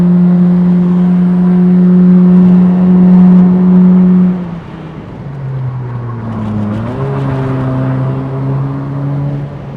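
A modified Honda Jazz accelerating uphill in S mode, its engine holding a loud steady drone, then dipping as the revs shift and climbing again in a strained pull, heard close from inside.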